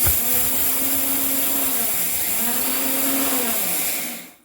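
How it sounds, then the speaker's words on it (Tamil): A kitchen mixer grinder whirs loudly as it grinds puffed rice, a steady motor drone that rises and settles in two long pulses before cutting off at the end, with no talking. "பொரிய அரிசி அரைச்சி அரைச்சிடுவோம்"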